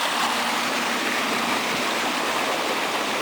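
Hot water from a factory pours and rushes steadily into a small basin, a constant close splashing flow with no voices.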